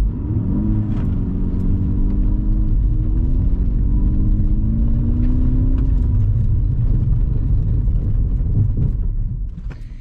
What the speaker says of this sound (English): Let's mash that gas.